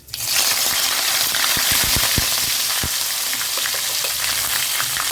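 Urad dal, asafoetida and curry leaves hit hot oil for kara chutney, setting off a loud, steady sizzle with sharp pops and crackles scattered through it.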